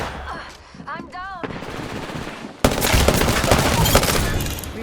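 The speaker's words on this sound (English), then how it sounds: "I was able to get off some shots, and that's a team wipe right there" Bursts of automatic gunfire from the Apex Legends battle royale game rattle loudly, starting sparse and then turning into a dense, sustained volley with no talk.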